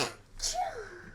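A single short sneeze, close and sharp, followed by a faint trailing vocal sound.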